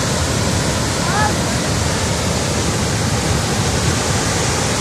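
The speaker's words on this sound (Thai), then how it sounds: "ผมอยากให้ท่านได้ฟังเสียงนะครับ เสียงน้ำตกนะครับ" A steady, dense roar of rushing water fills the whole clip, constant and loud like a waterfall close by, with no breaks.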